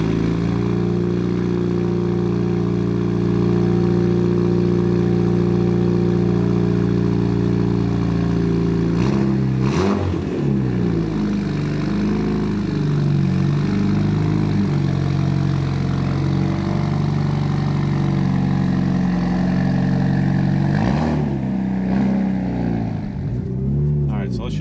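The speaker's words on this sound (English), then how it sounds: "We got to warm up the car, so just a little around the block driving here." A Mitsubishi Evo 8 with an aftermarket exhaust idles with a deep steady rumble, then pulls away and drives, pitch rising and falling through gear changes, loud and close.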